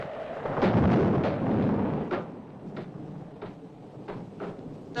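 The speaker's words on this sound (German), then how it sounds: "Das ist nur der Wind. Der rüttelt überall an den Fensterläden." In a 1959 horror mystery film, wind rattles window shutters with a series of irregular knocks and bangs over a low rumbling gust, fairly loud at first, then scattered softer clatters.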